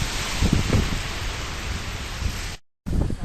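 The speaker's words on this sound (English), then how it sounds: "We were just caught in the rain again" Steady rain falls in Reykjavik, Iceland, a dense even hiss of drops with brief pattering bursts, cut by a short gap of silence near the end.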